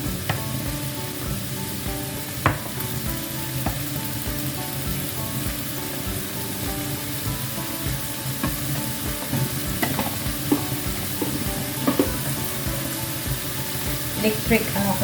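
Pork and pork liver are stir-fried with mixed vegetables on an electric stove. Steady loud sizzling runs throughout, with the scrape and clatter of stirring and faint talk in the background.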